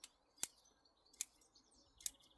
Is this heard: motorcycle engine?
no